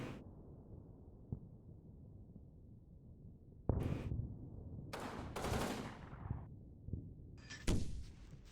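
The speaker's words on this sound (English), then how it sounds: "They got a mortar." Muffled low thuds and booms of mortar and gunfire in the World War II video game Combat Mission Normandy land at intervals, several sharp impacts over a steady low rumble with no talk.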